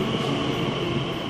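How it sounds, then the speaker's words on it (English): A train arriving at a London Elizabeth line station platform gives a steady low rumble with a droning hum, moderately quiet and continuous, with no voices. "Trains coming from central London come directly into the platform where we are."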